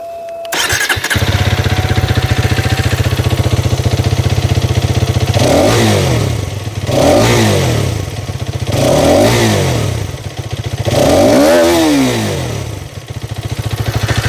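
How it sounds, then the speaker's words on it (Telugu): A Hero Karizma XMR 210 motorcycle starts with a sharp crank, then idles loudly before its exhaust is revved four times in rising and falling blips, up close and without talk. "ఇప్పుడు ఈ బైక్ ఎగ్జాస్ట్ నోట్ అనేది వినిపించేస్తాను మీకు."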